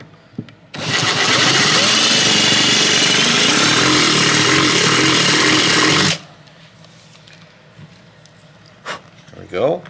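A loud, steady power drill whirs continuously for about five seconds while working on a 1965 Gibson Country Western guitar, then stops abruptly, followed by quiet handling noises and a couple of faint clicks.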